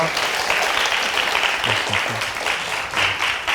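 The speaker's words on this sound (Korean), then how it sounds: "다시 한번 큰 박수 부탁드립니다" A lecture audience applauds a professor of information and computer engineering at Pusan National University after a public science talk, with steady, dense clapping throughout and a few faint voices underneath.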